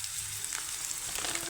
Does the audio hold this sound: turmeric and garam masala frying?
yes